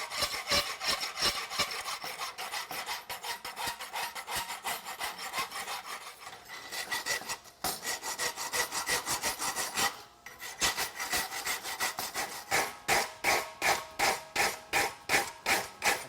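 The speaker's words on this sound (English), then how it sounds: "all I'm going to do is take the top off with the file" A steel file rasps across the top of a hot horseshoe held in a vise, with steady back-and-forth strokes throughout that turn into sharp, evenly spaced rhythmic scrapes near the end, close and fairly loud.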